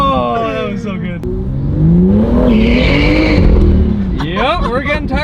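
A BMW M2 (F87) fitted with a new intake accelerates hard with rising, revving engine tones and a sustained tire squeal midway, loud and close, with occupants talking over it.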